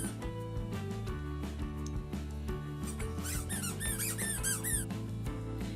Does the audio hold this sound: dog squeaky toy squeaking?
yes